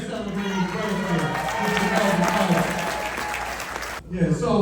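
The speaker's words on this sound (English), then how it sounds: "give this gentleman a round of applause for his birthday" A room of attendees applauding a gentleman on his birthday, steady dense clapping with some cheering that holds for about four seconds before a brief break and a voice coming back in.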